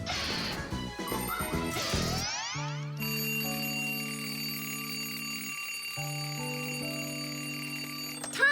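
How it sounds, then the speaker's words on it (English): A crash gives way to a ringing alarm clock, its bell tones sounding in sustained bursts, close and fairly loud. "why is your alarm clock ringing in the middle of the night"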